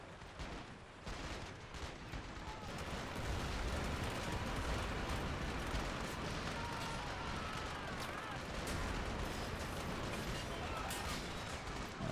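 Artillery and gunfire in the Men of War Assault Squad game during a USMC beach landing: a dense, continuous roll of blasts and shots at loud, sustained intensity, with voices talking over the battle.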